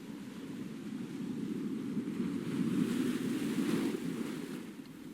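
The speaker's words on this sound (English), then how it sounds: "we're going to load the factory waves sample" Ocean waves factory sample in the Vital synthesizer, played alone as a soft, continuous surf wash with a gentle swell rising in the middle and easing off again.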